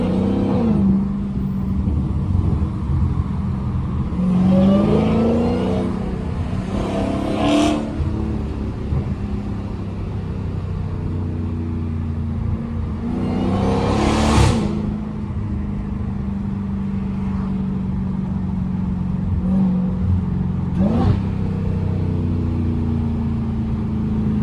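A straight-piped Dodge Hellcat rumbles through its exhaust while driving, with loud revs that surge and fall back near 7 and 14 seconds over a steady, continuous engine drone.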